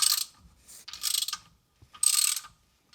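A socket ratchet on a 3-inch extension bar clicks in three quick bursts while loosening the front differential drain plug on a Chevrolet Colorado or GMC Canyon, with sharp close ratcheting separated by brief pauses.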